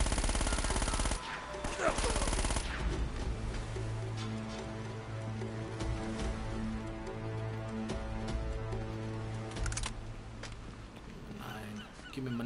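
Gunfire in Uncharted: Drake's Fortune opens with loud rapid bursts, then thins to scattered shots over steady game music, with brief talk in the background.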